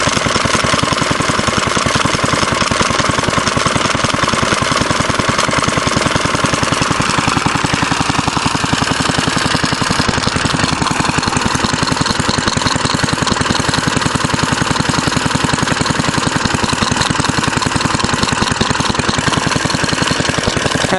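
A Fairbanks Morse Z/D stationary engine with a non-original muffler idles steadily and loudly up close, its even, rapid firing beat continuing throughout with no voices.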